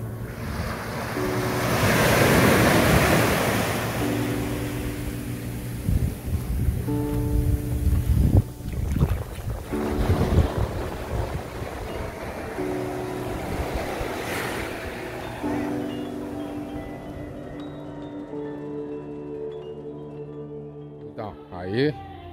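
Ocean waves breaking on the beach at Bonete, Ubatuba, rough after a swell, with a continuous rushing surf and wind noise on the microphone, loudest early and easing off, with people talking at times.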